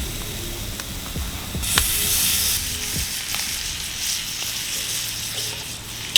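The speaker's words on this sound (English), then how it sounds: "The butter's sizzling behind me" Deer heart fries in sizzling butter with a steady, close crackling hiss that swells into a louder spitting burst midway, then settles back to an even sizzle.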